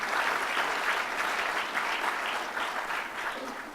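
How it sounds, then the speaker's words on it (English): An audience at a business breakfast applauds the governor, a steady dense roll of many hands clapping at an even level throughout, with no voices breaking through. "you can give him a round of applause for that also"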